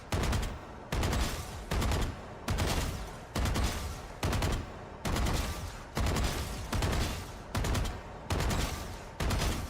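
Phantom rifle fire in Valorant, loud, close bursts of automatic shots, about a second each, repeating steadily with short pauses between them.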